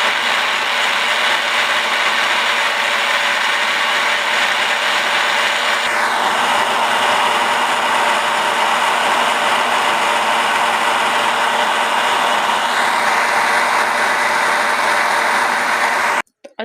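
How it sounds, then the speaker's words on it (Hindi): Blender grinding strawberries, dates, cold milk and sugar into a milkshake, a loud steady whirring motor that runs unbroken for about sixteen seconds before cutting off abruptly. "अच्छे से हमने ग्राइंड कर लिया है जूस अपने को, तो अब हम इसे एक गिलास में डालते हैं।"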